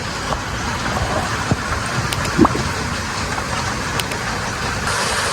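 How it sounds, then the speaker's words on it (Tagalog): Steady heavy rain pours during a typhoon with southwest monsoon winds, a dense continuous hiss with scattered drips and knocks, no voices over it. "Ang lakas ng bagyo."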